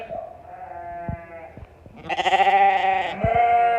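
A lamb and ewe bleat near at hand in a lambing pen, a few quavering cries ending in one long, loud call, with a person's voice briefly in the background.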